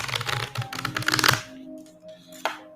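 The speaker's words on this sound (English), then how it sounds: "Let me do a shuffle." A deck of psychic reading cards being shuffled, a dense run of rapid riffling flicks for over a second, then quieter card handling with one brief snap near the end.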